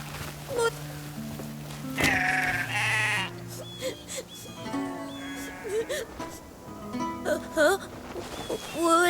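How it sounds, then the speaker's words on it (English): Sheep bleat repeatedly in the video game Crimson Desert, several close wavering calls coming one after another among other animal sounds, with a voice talking in between. "There's a lot of sheep and goats"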